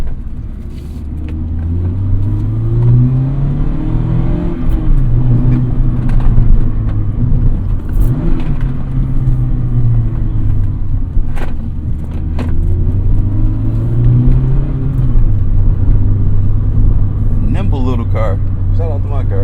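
A Mazda ND3 Miata engine revving up while driving, a steady in-cabin drone that rises and falls in pitch with the revs over several pulls, with people talking over it.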